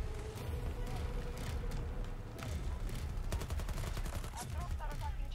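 Rapid hip-fire bursts crackle in Battlefield 2042 on PS5, a string of quick shots that cluster toward the end amid a busy battlefield din, with a player talking over it.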